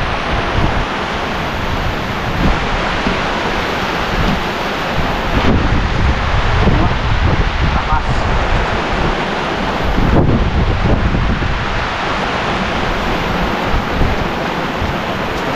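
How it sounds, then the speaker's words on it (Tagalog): Heavy typhoon rain with strong wind lashes down in a steady, loud, dense roar, with gusts swelling around the middle and near the end. "ayan na, inabutan na ng malakas na ulan."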